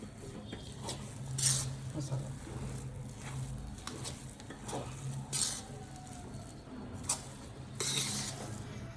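Vegetables with grated coconut and coriander are stirred in a pan, with a low sizzle underneath and recurring bursts of scraping and clinking from the utensil against the metal.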